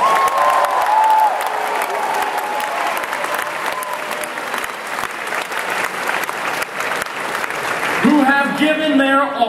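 Loud, sustained audience applause at a Pokémon World Championships closing ceremony, a dense roar of clapping across a large hall, with an announcer's voice starting up over it near the end.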